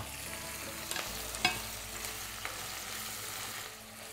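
Two tomatoes and a sprig of thyme are stirred in a frying pan for a seafood risotto, a quiet continuous sizzle broken by a few soft scrapes and knocks.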